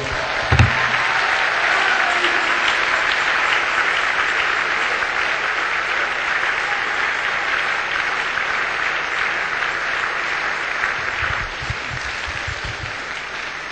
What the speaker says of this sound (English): Give God a clap offering,